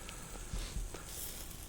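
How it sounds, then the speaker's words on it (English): Steaks sizzling in a hot pan, a steady crackling hiss with a couple of louder pops, close and alone with no talk. "It's steaks. Sizzling steaks."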